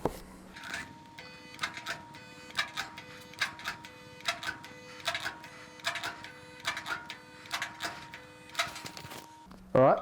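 A Vevor stud welder tacks pins onto dented sheet metal for dent pulling, producing a steady electrical hum broken by a regular series of short, sharp bursts, each one buzzing and crackling briefly before it cuts off.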